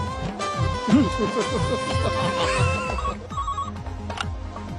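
Telephone ringing in an Indian comedy film scene, a repeated bell-like ring pattern sounding over background music and effects before it cuts off near the end.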